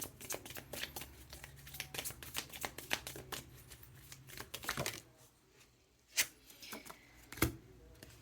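Tarot cards are shuffled up close in a rapid run of crisp riffling flicks for several seconds, then the cards go quiet apart from a couple of isolated taps and a soft slide.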